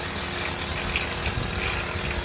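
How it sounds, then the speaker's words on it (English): Water poured at the roots of a transplanted plant in a 15-gallon grow bag makes a steady, close gushing wash that runs unbroken from start to finish, with no talking. "And you want to give it a good watering."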